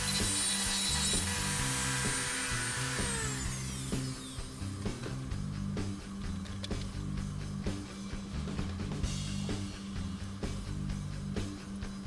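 A power tool grinds and saws steadily at the inside edging of a lightsaber hilt, close and fairly loud, with a pitch sweep near the start and short scraping bursts throughout.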